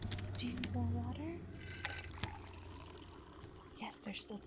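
Water is poured into a container close by, a brief liquid fill and trickle with soft speech over it.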